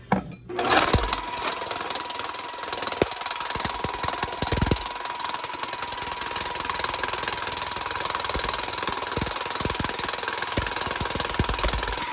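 Makita AVT SDS-Max 2-inch rotary hammer drilling into bluestone, a loud, continuous rapid hammering with a sustained whine that starts abruptly and runs unbroken to the end.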